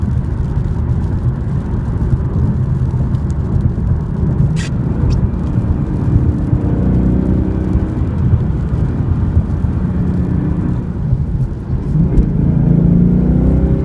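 A 2015/2016 Ford Mustang GT fastback with a 5.0L V8 making 435 horsepower accelerates hard through the gears on wet roads, a steady loud engine roar with tire and road noise and no talking.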